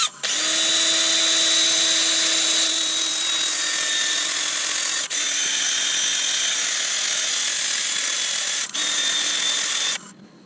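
A Stanley Fatmax power tool whines continuously at high speed close up in a woodturning workshop, with two brief dips in pitch, and stops abruptly after about ten seconds.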